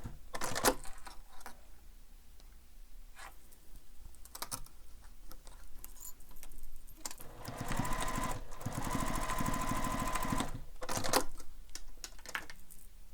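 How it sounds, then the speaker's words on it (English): A sewing machine stitches along a marked edge on a fabric wallet in short bursts with pauses between them, then makes a longer steady run near the end. It is close and moderately loud, with no talk. "So I'm sewing along that marked edge."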